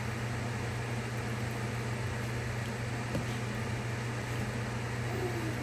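A kitchen exhaust fan drones steadily while fish fries, a constant low hum with broadband whoosh and faint sizzle, unchanging throughout and fairly quiet.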